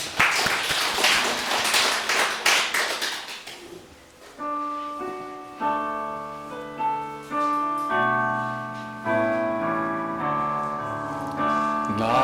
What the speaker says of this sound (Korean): 우리 영광의 박수 한번 드립니다